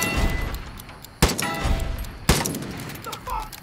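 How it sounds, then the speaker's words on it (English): Gunfire in the Far Cry 5 video game: two sharp, loud shots about a second apart, each with a booming tail over a rumbling background, close and without talk during the shots. "Sounded like a gunshot!"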